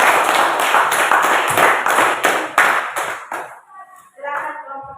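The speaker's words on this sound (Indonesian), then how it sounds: "Kita beri aplaus dulu untuk kelompok" Applause for a student group in a classroom, a dense burst of many hands clapping together for about three seconds before thinning out into a few scattered claps and faint voices.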